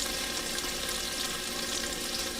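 Onions sautéing in a pan on a stove, a steady soft sizzle and crackle continuing throughout with no voices.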